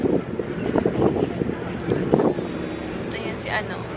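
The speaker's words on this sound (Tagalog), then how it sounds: "Sobrang mahangin at medyo malamig" Strong seaside wind in Kadikoy, Turkey, buffets the microphone as a steady broadband roar, with voices talking underneath throughout.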